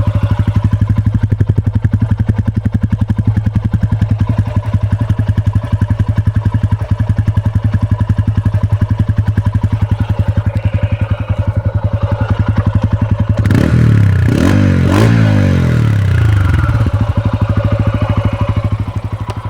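A close TVS Ronin 225 cc motorcycle engine idles with a steady loud putter, then revs up and down briefly near the end before returning to idle.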